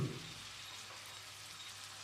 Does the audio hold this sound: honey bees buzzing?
no